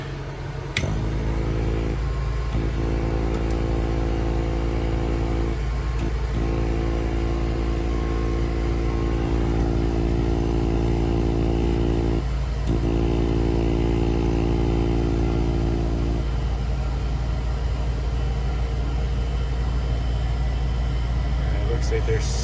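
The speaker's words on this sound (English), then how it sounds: "Let's see if the suction unit works." A suction unit runs inside a 2012 Chevrolet G3500 Express Medix ambulance, a steady motor drone continuing throughout with intermittent pulsing changes in tone and some clatter.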